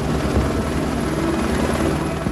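Helicopter hovering over a narrow rocky field, attempting to land for a medical evacuation; a loud, continuous rotor thump and engine roar fills the whole moment, close and steady.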